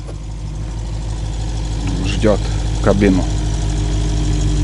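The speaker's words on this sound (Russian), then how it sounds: "я уже УАЗик запустил двигатель." A UAZ vehicle engine idles steadily near a forest cabin, a low continuous rumble running throughout while people talk briefly over it.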